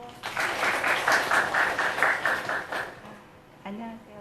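A church congregation at a seminar claps for a deaconess coming forward, a steady mid-loud wash of applause lasting about three seconds, then fading before a single voice begins to speak.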